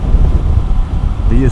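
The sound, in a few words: wind blowing past motorcycle rider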